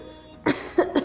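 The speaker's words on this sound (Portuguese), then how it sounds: "Inspira, solta o ar e tosse." Three coughs from a person exhaling and coughing during a postpartum abdominal wall self-check, one single burst then two close together, near and alone in a quiet room.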